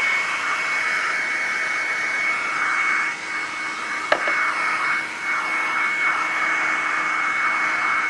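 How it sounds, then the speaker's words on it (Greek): A hair dryer blows steadily from a short distance as something is dried, a continuous whooshing hum with a tonal whine, with slight dips in level and a brief click midway. "Απλά τώρα αφού το στεγνώνουμε με το πιστολάκι λίγο πιο μακριά."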